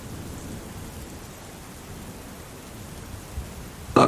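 A torrential downpour pounds parched desert earth in a Kalahari storm, a steady, dense hiss of rain with low thunder rumbling beneath and a sudden loud burst at the very end.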